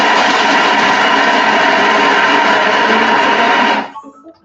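A Thermomix chops leek at speed 6, giving a loud, steady high-pitched motor whir that runs for about four seconds and then cuts off, leaving brief rattling as the blade slows.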